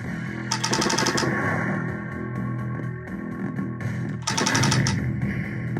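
Terminator 2 arcade game gunfire, bursts of rapid electronic machine-gun fire over a busy layer of game music and effects, loud and near, two main bursts a few seconds apart.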